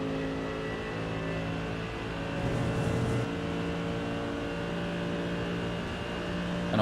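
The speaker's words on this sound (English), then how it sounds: "That big V8 motor just rumbling around." Mercedes GT3 race car's big V8 engine in the iRacing simulator rumbling at a steady drone, with gearbox whine and a slight swell midway, continuous and fairly loud.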